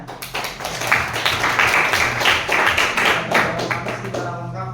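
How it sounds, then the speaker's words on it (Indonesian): Classroom applause for a lesson on VLANs at a polytechnic, a dense, steady patter of many hands clapping close by for several seconds before tapering off. "Baik, tepuk tangan ya"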